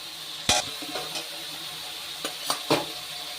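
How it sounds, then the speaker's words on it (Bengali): Fried potatoes being stirred with spices in a pan for a Bengali hilsa and eggplant curry, a faint steady sizzle broken by a few sharp spatula scrapes and clinks against the pan. "আলু দিয়ে মশলার সাথে একটু কষিয়ে নেব।"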